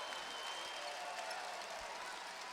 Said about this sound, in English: As the fans here at the Scotiabank Center have applause here for the team.